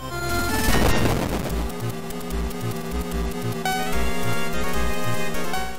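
A flame cannon fires in the Stowaways video game, a dense roaring burst of crackling blasts layered over rhythmic thumping music and busy game effects, loud and continuous.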